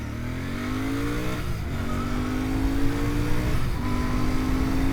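A 2025 Royal Enfield Bear 650 motorcycle accelerates hard up to about 60 mph, its engine note rising steadily through the gears with brief dips at each shift, loud and close.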